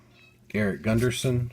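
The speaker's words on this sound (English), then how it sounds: "you can probably hear my cat in the background having a fit right now" A house cat meowing loudly in agitation close by, three drawn-out yowls in quick succession right after a voice speaks briefly.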